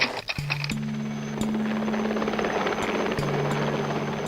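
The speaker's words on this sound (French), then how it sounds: "L'hélicoptère qui transportait Thierry Sabine s'est désintégré" Helicopter flying at a desert rally raid, a steady loud rotor thrum with a droning tonal hum that holds throughout, close and continuous, no voices.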